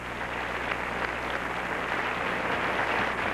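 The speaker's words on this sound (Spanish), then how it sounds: "Claro que sí, un aplauso." Dense, steady audience applause fills a televised awards ceremony, the TVyNovelas awards honoring the 1994 female revelation of the year, sustained at an even level throughout with no voices rising above it.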